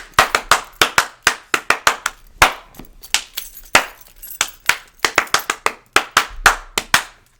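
Rapid bursts of loud, close hand claps in uneven clusters, sharp and crisp, with short pauses between runs and no other sound.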